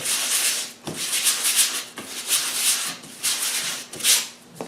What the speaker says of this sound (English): light sanding on the surface